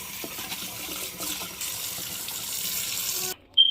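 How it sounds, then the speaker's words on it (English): Cold water gushes steadily from a kitchen tap onto cooked food in a pot, a loud, close, continuous rushing splash that cuts off abruptly near the end, leaving a brief clatter. "I am going to run some super cold water on it, as cold as I can get it, to basically stop the cooking process"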